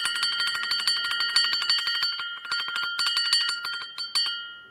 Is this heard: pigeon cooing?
no